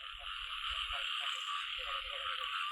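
Frogs croak repeatedly in bursts over a steady, loud drone of night insects at a rice-field or pond frog-catching outing, the croaks pulsing in two clusters near the listener.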